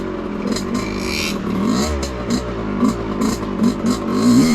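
A dirt bike on motocross tires, ridden through mud in monsoon rain, its engine running steadily and rising and falling in revs with a few throttle blips, close and loud, with no speech.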